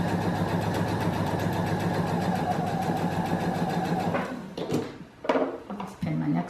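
A sewing machine stitches a quilt seam in a continuous close, steady hum with a needle guided by a stiletto, then halts, leaving a few clicks and handling noises before it briefly runs again.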